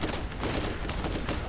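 Dense gunfire in the video game Borderlands, a continuous rattling burst that stays loud and steady for its short length with no voices over it.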